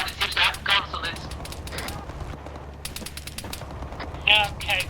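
Bursts of video game gunfire aimed at a pursuing vehicle, rapid machine-gun volleys coming in clusters, loud and close, with voices talking over the shooting.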